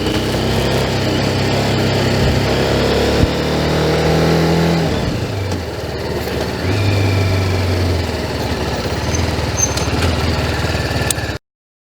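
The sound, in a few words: TVS Apache RR 310 motorcycle engine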